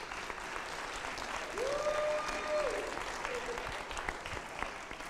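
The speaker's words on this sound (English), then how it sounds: "can you give a round of applause for all these seniors?" A crowd at a senior graduation service applauds the graduating seniors, steady clapping throughout at moderate level with a brief tonal whistle or cheer in the middle, no talk.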